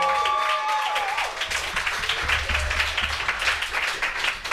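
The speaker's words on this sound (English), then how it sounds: "can we just have like one more round of applause for this amazing performance?" Audience applause after a live comedy show performance, a sustained patter of clapping from a crowd that swells and continues, with a faint tonal sound fading early on.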